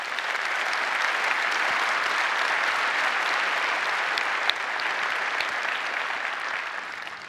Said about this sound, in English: I'd like to ask for a round of applause for all the people, men and women, who work so hard to make that work.